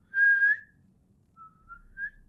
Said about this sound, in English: I followed the whistle